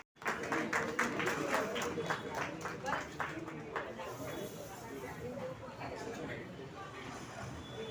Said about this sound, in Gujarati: તાળીઓના ગણગણથી વધાવીએ